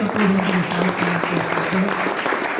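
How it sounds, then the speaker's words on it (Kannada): A crowd at a Swami Vivekananda Day celebration at a sainik training center claps loudly for the institute's principal, dense steady applause with a voice speaking over it. "ನಿಮ್ಮ ಸಂಸ್ಥೆಯ ಪ್ರಾಂಶುಪಾಲರಿಗೂ ಕೂಡ ಜೋರಾಗಿ ಚಪ್ಪಾಳೆ"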